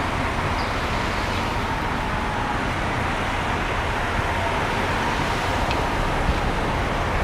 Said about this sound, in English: So it's a noisy Friday morning, not just with the traffic, but the wind